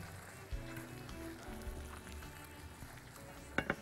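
Sauce for mushroom piccata sizzles in a pan while being stirred, a low steady fry with soft scraping movements and a few sharper clicks near the end, quiet and close.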